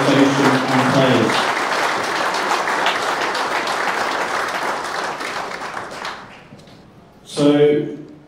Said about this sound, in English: please can we give a huge round of applause to Budget Motels and their support to our organisation and players